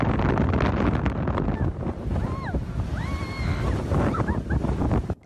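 Powerful gusts of the fall-wind blast across a suspension bridge in Hengchun, Pingtung, roaring and buffeting the microphone continuously and loudly, with faint voices and a few brief high cries heard beneath the rushing wind.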